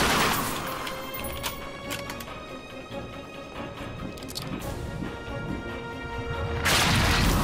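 Shotgun blasts in The Darkness II video game, a few sharp cracks early on followed by another loud blast near the end, over ongoing game noise with no talking.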